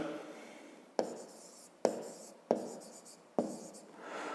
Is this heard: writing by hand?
yes